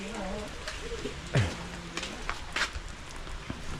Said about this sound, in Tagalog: Tamang-tama, umuulan, no?